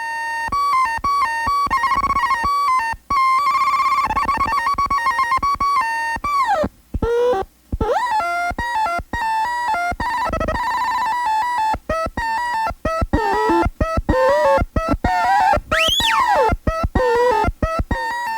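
Soma Labs Lyra 8 drone synth with its LFOs synced: a dense, loud, continuous wash of layered tones that warble and pulse in choppy rhythmic bursts, with pitches sweeping up and down and no talking.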